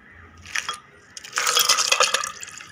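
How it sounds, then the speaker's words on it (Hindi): Water poured into a masala shikanji mixture of black pepper, black salt, lemon juice and mint, a short splash followed by a louder, sustained liquid pour with bright trickling and splashing close by. "और अब इसमें पानी डाल दें।"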